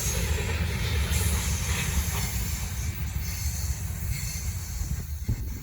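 A Norfolk Southern freight train passing nearby: a steady rumble and rolling hiss of wheels on rail, with no horn and no speech.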